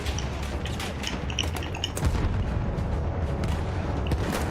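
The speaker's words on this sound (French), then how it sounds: "une grenade anti-char, connard." An anti-tank grenade goes off in Battlefield 1 amid a chaotic battle, with a deep boom about two seconds in and short sharp crackles and bangs around it.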